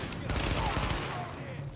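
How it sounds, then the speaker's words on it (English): An SMG firing in the video game The Division, a rapid, fairly steady burst of gunfire lasting under two seconds, with no talk. "Switch back to the SMG."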